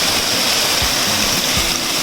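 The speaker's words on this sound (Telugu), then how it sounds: "చిన్న చిన్న వాటర్ ఫాల్ ఇక్కడే స్టార్ట్ అయింది." Small waterfall in a forest at dusk on a Himachal trek, a steady, dense rush of falling water filling the scene close by with no voices.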